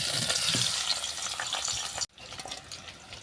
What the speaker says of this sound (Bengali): এরপরে এঁচড় আমি ভেজে নেব